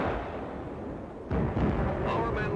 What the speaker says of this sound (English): Watch this direct hit by a Jap shell.